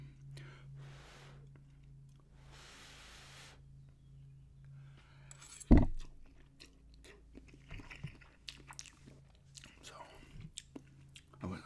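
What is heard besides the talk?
eating cup noodles, chewing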